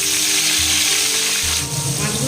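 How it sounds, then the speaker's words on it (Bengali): Koi fish frying in hot oil with a steady, dense sizzle and crackle throughout, close and continuous, with faint low hum beneath. "মাছগুলোকে এভাবে আমি ভেজে নিয়ে আসছি।"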